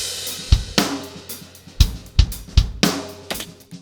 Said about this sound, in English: we've got a snare bottom mic here